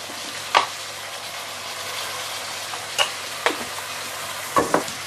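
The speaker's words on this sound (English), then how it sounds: "now you can give it a few stir." French beans stir-fried with egg, salt, sugar and chili hiss with a steady low sizzle, punctuated by several sharp spatula scrapes and clacks against the wok at irregular intervals.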